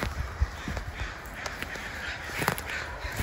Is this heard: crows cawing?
yes